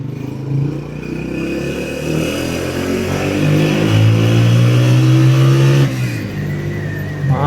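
Honda 125 motorcycle engine revving up close, a loud droning roar that climbs in pitch over several seconds, holds, then drops back to a rough idle, with no talking.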